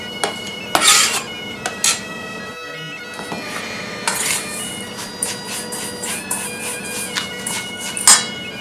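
Sun-dried tomatoes in olive oil are tipped into a bowl of breadcrumbs, making close clattering scrapes of a spoon and jar against the bowl, with a few sharp knocks spread across a quiet kitchen and no speech.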